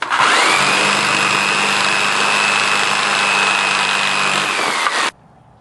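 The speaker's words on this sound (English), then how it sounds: "So get in here with the jigsaw and finish it up." Jigsaw cutting through a wooden deck stair stringer, a loud continuous high whine with a steady motor drone that runs about five seconds and then cuts off abruptly.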